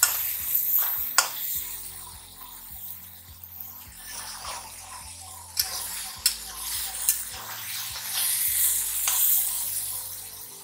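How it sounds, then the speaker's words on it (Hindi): Garlic fries in a kadhai for an aloo paratha filling, a soft crackling sizzle with a spoon scraping and stirring in irregular strokes and sharp clinks against the metal, heard close with no talk. "लहसुन अच्छे से भून लिया, आप देख रहे हो ड्रड ड्रड हो गया ना, मस्त कुरकुरी कुरकुरी"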